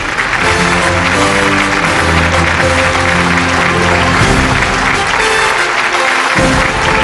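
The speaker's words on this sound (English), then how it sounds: "Let's have an electrifying round of applause" Loud, sustained applause from a large crowd fills the whole stretch, with steady clapping and background music under it.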